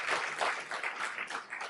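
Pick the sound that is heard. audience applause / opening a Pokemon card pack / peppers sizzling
audience applause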